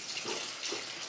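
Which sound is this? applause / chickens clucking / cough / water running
water running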